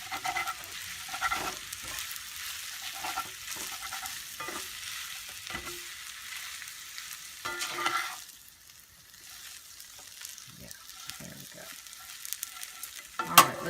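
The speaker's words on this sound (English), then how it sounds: "after I get them a little sauteed, some flavor in there, with the olive oil and all the peppers and onions" Peppers and onions sizzle in olive oil in a pan, a steady low hiss with intermittent stirring scrapes, continuous and moderately quiet throughout.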